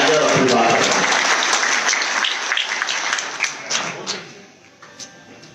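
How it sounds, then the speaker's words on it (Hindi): Loud applause from a crowd of party workers at an Aam Aadmi Party gathering in Hisar, welcoming Sandeep Pathak; dense clapping fades over several seconds to scattered claps. "एक बार जोरदार तालियों से संदीप पाठक जी का अभिनंदन"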